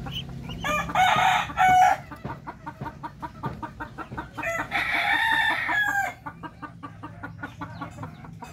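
Backyard chickens with young chicks and ducklings cluck and crow nearby in two loud bursts, with softer scattered peeping and clucking continuing between them; no one speaks.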